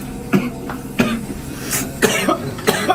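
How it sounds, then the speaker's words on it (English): A person coughs repeatedly, about five harsh close bursts spaced unevenly over a few seconds, with some throat-clearing between them and no talking. "From the coughing"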